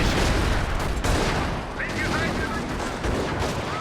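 Gunfire and grenade blasts from a Company of Heroes battle, dense and continuous, with sharp bursts and booms layered over a steady roar of combat noise.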